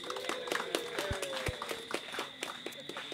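Audience applauding at an event, scattered individual claps in an uneven patter, moderately near, with a few voices murmuring underneath.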